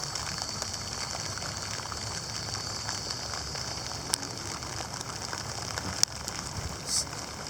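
Rain falls steadily as a broad, even hiss through the whole stretch, with a few brief louder ticks and a soft splash near the end, no voices over it.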